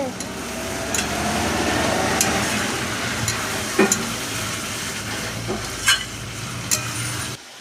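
Meat being slowly sautéed (kosha) in a pan, with a little sugar added, gives a steady close sizzle and frying hiss with scattered stirring clinks and scrapes throughout.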